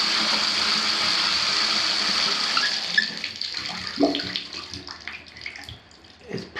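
Water gushes steadily from a bathtub tap in a house bathroom, then thins into softer splashing and trickling as the flow eases.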